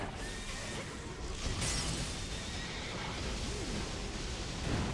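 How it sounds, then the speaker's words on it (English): A horse enemy neighs in the video game Stranger of Paradise: Final Fantasy Origin, a fairly faint whinny over a dense, noisy battle soundscape with scattered impact sounds and no speech. "the horses are probably my least favorite enemy to fight"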